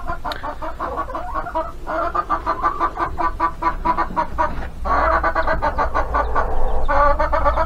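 A flock of farm chickens being let out in Ukraine clucks continuously up close, with busy overlapping murmuring clucks growing louder near the end and a short spoken word at the start.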